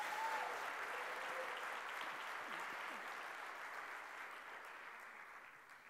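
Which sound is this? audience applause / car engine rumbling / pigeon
audience applause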